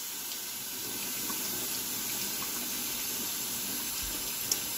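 Water from a sink tap runs in a steady, close hiss while yellow squash and zucchini are rinsed under it, with a faint knock near the end and no talking.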